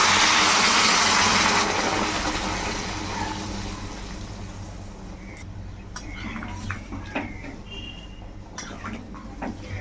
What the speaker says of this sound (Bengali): এর মধ্যে এবারে গরম জল ঢেলে দিচ্ছি।